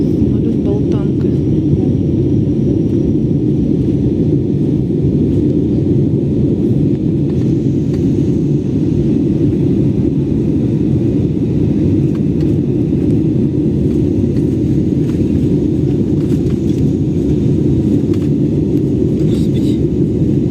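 A steady, loud low rumble fills an airplane cabin during takeoff through turbulent cloud, constant for the whole stretch, with voices murmuring underneath.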